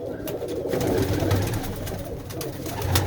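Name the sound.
pigeons cooing in a loft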